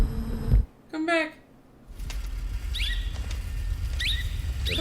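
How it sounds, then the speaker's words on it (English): An agitated bird from the film Arrival squawks and chirps in sharp, rising bursts over a rumbling, noisy movie soundtrack, with a few louder calls spaced across the scene. "The bird is going crazy."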